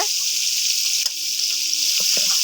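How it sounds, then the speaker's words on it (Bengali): Pangas fish fillets fry in a pan of hot oil with a steady, bright sizzle, broken by a few soft scrapes and clacks as the pieces are turned over. "পাঙ্কাশ মাছ ভাজা তো এটা উল্টাই দিতেছে"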